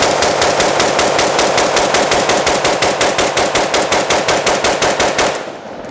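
An AK47 rifle fed from an Xtech Tactical magazine fires a long, evenly spaced string of loud, sharp shots outdoors, roughly five per second, then stops abruptly, with no talking.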